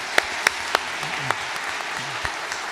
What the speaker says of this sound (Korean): 우리 축하의 박수 해주시겠습니다.